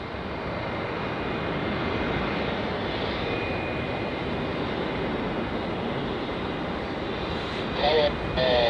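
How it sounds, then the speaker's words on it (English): A Qantas QF35 airliner heading for Singapore takes off at Melbourne Airport, its engines a steady, distant broadband roar that holds throughout, with faint voices over it. "Here goes QF35 off to Singapore"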